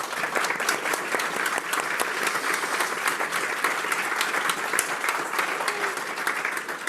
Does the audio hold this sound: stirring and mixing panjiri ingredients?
no